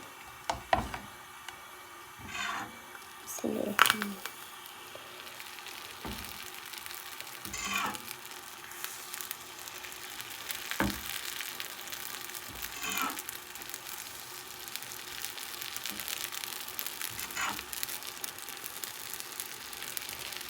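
Chitoi pitha batter made with polao rice cooking in a hot pan on a stove, a faint soft sizzle punctuated by sharp knocks and clatter of a lid or utensil at intervals, quiet overall.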